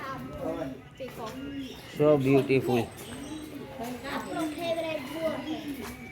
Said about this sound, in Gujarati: આ છે મોહમ્મદનો ફેવરેટ કબૂતર